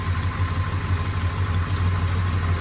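A 1970 Plymouth GTX with a 440 V8 and Hemi mufflers idles steadily nearby, a deep continuous rumble with a slight lope and no voices over it.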